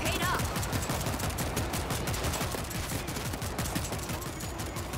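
Rapid, dense gunfire in the zombie-shooter game World War Z, a continuous stream of fast shots at fairly low volume lasting throughout, with faint voices mixed in.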